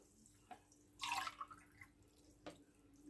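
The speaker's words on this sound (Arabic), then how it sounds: "معانا هنا ميه سلق قشر الليمون، هنحط 5" Boiled lemon-peel water is poured into a plastic bucket during homemade soap making: one short, bright splash of liquid, faint and close, followed by a few quieter drips and knocks.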